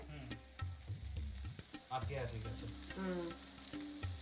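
Potato pieces fry in a pan with no extra oil while being cooked for a rohu fish curry with potatoes and cauliflower, giving a close, steady sizzle broken by repeated scraping stirs.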